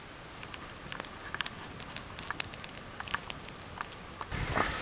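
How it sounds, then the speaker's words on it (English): Light, scattered patter of raindrops tapping nearby, growing a little denser toward the end over a quiet background. "Here comes the rain."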